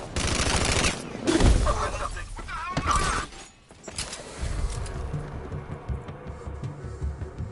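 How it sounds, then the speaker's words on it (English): Video game gunfire breaks out as a rapid, loud burst of shots mixed with shattering crashes, followed by scattered bangs and a lower background rumble, with some voices in the mix. "I'll shoot him down and see what happens."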